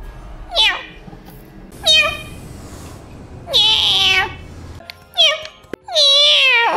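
A person imitates a cat, giving five separate voiced meows in an irregular sequence, close and loud, some drawn out and wavering, with short pauses and faint background sounds between them.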